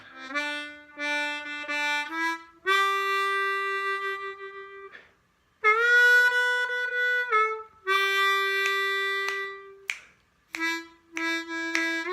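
A harmonica plays a slow melody alone, with sustained notes that bend on the 3 draw and slide between pitches, separated by short breaths of silence.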